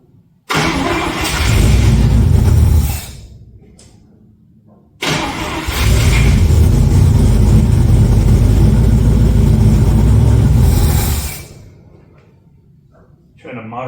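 An old International C100 truck cranks and catches twice, each time settling into a loud, rough, rumbling idle for a few seconds before cutting off, with brief quiet gaps between; a voice can be heard around the runs.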